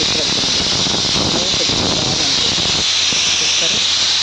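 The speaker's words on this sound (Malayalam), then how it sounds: "കുക്കർ വിസിലെടുക്കുന്നുണ്ട്." A pressure cooker steaming puttu in a home kitchen sends out a loud, continuous hiss of escaping steam. Lower rumbling sits beneath it, then drops away near the end while the hiss carries on.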